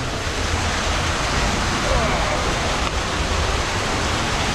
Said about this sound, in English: Stalagmites, stalactites, natural stalactites, a natural waterfall.